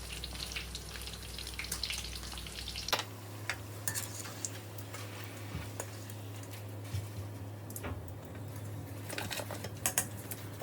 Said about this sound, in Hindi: फ्रीज़र से निकालो और समोसे फ्राई कर लो